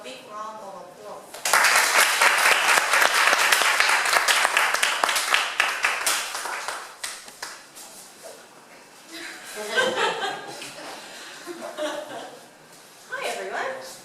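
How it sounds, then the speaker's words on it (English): An audience at a talk breaks into warm applause welcoming three speakers, dense clapping for several seconds that fades out, followed by scattered chuckles and people talking. "please welcome Heather, Calen, and Cathy with a big round of applause"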